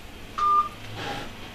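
Telephone keypad dialing tones during a local council meeting, a short sequence of clear beeps heard close and alone, with a quieter tone following.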